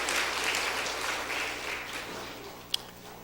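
A church congregation applauds an orchestra steadily, a dense wash of clapping that fades gradually, with one sharp louder clap near the end.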